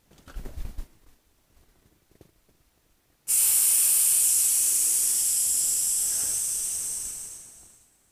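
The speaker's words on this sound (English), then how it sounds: "release the pressure through your Schrader valve" Pressure bursts out through a Schrader valve on a Friatop top-loading tool as a sudden loud, steady hiss that starts abruptly midway and slowly fades at the end.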